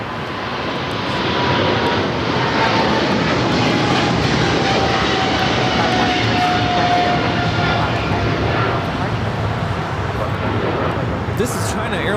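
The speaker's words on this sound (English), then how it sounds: "This is China Airlines cargo 5137 taking off to Taipei on the 777 freighter." A China Airlines cargo Boeing 777 freighter takes off from LAX bound for Taipei. Its roar builds into a loud, steady, broad jet rumble that holds for the whole stretch, with faint talk in the background.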